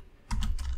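Computer keyboard keys clatter as Solidity code is typed, a quick close burst of several crisp keystrokes arriving after a moment of near silence.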